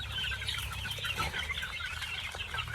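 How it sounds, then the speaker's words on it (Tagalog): Healthy young chicks give a busy, continuous chorus of high peeping and soft clucking, fairly close and steady throughout, with no voices. "So ayan yung mga healthy na sisiw natin."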